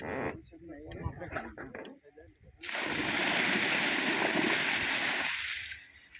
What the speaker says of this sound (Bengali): এই পানিটা ফেলাই দিল যাতে মানে বিলের পানিটা একটু বাড়ে